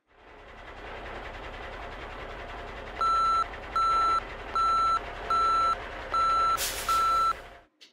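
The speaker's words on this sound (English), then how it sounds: "Come on, bring in the truck." A toy construction truck from a Paw Patrol Mighty Machines cement set rolls in with a steady mechanical hum, then six evenly spaced electronic reversing beeps sound loud and close before the motor cuts off.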